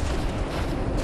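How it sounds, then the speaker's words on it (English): Heavy thumping of an approaching monster in Lethal Company, a constant low pounding rumble that fills the moment, fairly quiet and with no talk over it. "Do you hear that thumping?"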